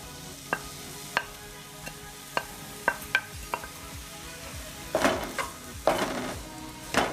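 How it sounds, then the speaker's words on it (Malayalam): Chopped onion for a chicken bucket dish drops into hot oil and fries, a steady close sizzle broken by sharp clacks of a spoon or ladle stirring against the pan, louder scraping bursts toward the end. "എണ്ണയിലേക്ക് മുറിച്ചിട്ട ഉള്ളി ഇട്ട് കൊടുക്കുക."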